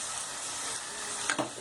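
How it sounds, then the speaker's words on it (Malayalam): Tomatoes sizzle in hot oil while being stirred for chicken curry, a steady close frying hiss with a couple of brief scraping stirs at the end. "തക്കാളി നന്നായിട്ട് ഇളക്കി കൊടുക്കുക."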